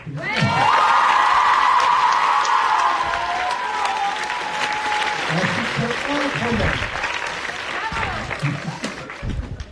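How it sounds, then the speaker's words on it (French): Loud, sustained applause from a crowd, with a few whoops and cheers mixed in, continuing steadily throughout. "on applaudit très fort, s'il vous plaît, Antonio."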